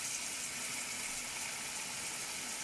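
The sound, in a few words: tap running, filling a sink with water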